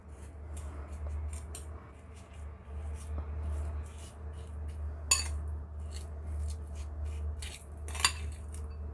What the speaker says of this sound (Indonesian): Setelah itu kita aduk rata ya.